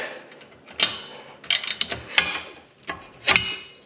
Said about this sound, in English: So I'm going to crack loose the ones on the back, the bolts on the back